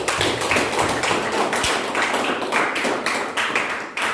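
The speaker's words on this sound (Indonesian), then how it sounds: "Kita berikan tepuk tangan." Group clapping fills the room as a school class applauds a group after its presentation, a steady dense patter of many hands, close and loud throughout with no talking.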